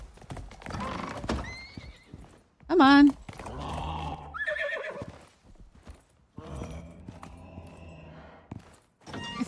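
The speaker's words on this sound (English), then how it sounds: "Oh my god, it's like a weird pig horse." An odd pig-like horse creature in the Dangerous Horizons video game DLC neighs loudly with a warbling whinny, its hooves clip-clopping and thudding around it, while people talk over the sounds.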